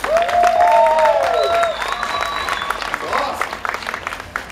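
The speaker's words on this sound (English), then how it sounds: "Round of applause if you've seen my show here before." Audience applause at a magic show, a broad wash of clapping heard under a performer's voice that talks over it, fading gradually toward the end.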